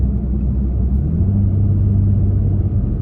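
Steady low rumble of a Toyota Tacoma engine with an aftermarket exhaust, heard from inside the cab while driving at about 41 mph, with a slight rise in pitch as the throttle is pressed.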